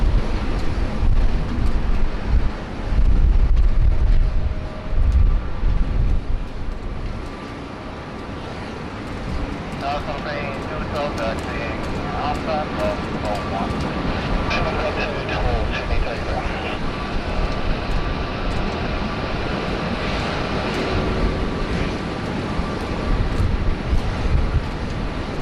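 A taxiing aircraft rolls along a taxiway at Sydney Airport, its engine a moderate, steady rumble and whine in the background while people talk over it.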